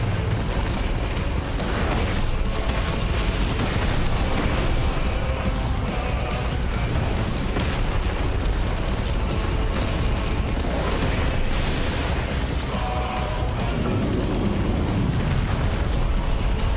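An explosion attack bursts in the Final Fantasy XVI video game, heavy rumbling and blasting noise filling a dense, loud stretch of continuous combat effects.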